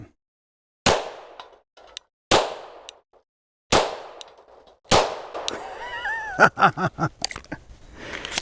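Glock pistol fitted with a heavy bayonet firing at tin cans outdoors, five sharp, loud shots spaced a second or so apart, followed by a flurry of metallic clangs and ringing as the cans are hit.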